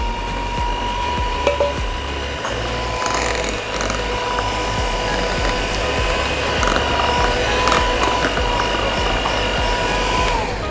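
An electric mixer runs at low speed through chocolate cake batter with milk, a steady mechanical whir and rattling gear hum that stays loud and constant.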